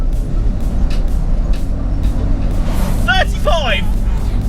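A 2002 Ford Escort ex-postal van pulls along in second gear, its engine a steady low drone with road rumble, while a person's voice briefly rises over it partway through.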